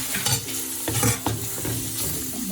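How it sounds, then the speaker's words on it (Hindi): Whole spices, cinnamon and cardamom, being stirred into hot masala in a pot for mutton yakhni pulao, giving a dense, close frying sizzle with a few scraping strokes over about two seconds, no voices. "वो भी अब हम इस मसाले में ऐड कर देंगे और अच्छी तरह से इसको मिक्स कर लेंगे"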